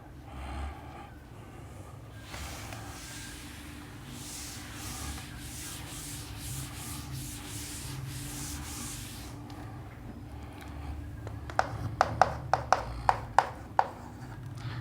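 A board eraser rubs written working off a board during a class 12 electrostatics lesson: a run of soft scrubbing strokes through the middle, followed by a quick series of sharp taps near the end, all fairly close.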